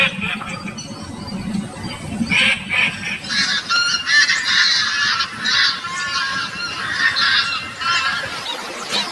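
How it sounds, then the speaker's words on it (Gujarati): Birds at Thol lake bird sanctuary near Ahmedabad, a loud chorus of honking, goose-like calls and squeals overlapping continuously, with low background murmur. "એકવાર અહીંયા આવીને પક્ષીઓનો કલરવ અચૂક સાંભળવા જેવો"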